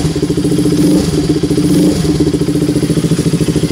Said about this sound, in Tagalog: Maganda na yung idle ng motor, hindi na siya yung parang mataas na RPM kanina